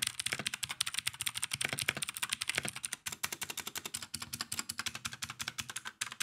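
Rapid, loud typing on a cheap, low-quality 60% mechanical keyboard with blue switches, a dense run of sharp clicky keystrokes at a steady fast rhythm, close and without speech.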